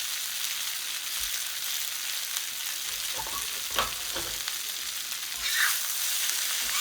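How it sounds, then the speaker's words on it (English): A tofu-chickpea scramble sizzles steadily and loudly in a hot cast iron wok, a constant hiss broken by occasional stirring scrapes and pops. "Listen to that delicious sizzle."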